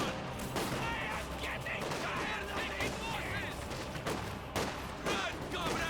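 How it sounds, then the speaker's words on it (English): Dense battlefield gunfire in the real-time strategy game Company of Heroes 2, with overlapping volleys and scattered sharp blasts forming a continuous, busy din under a commentator's voice. "Volkswagens take a bit of fire there."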